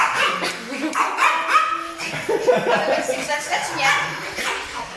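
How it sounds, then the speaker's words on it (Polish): A pack of dogs bark and yip repeatedly indoors while people talk and laugh over them. "W ogóle tutaj jest 13 psów."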